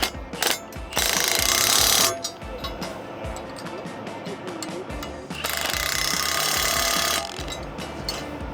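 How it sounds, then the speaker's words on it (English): A 3/4 wrench tightens a hex nut while changing a blade, giving rapid ratcheting clicks and metallic clinks in long loud bursts, with a voice talking in between. "Then you'll grab your 3/4 wrench for the hex head. Tighten the nut up."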